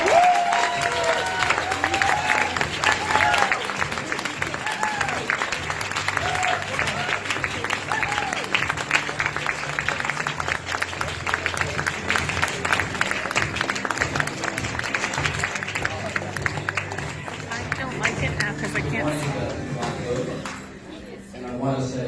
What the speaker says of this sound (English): give this man a warm welcome, Canadian applause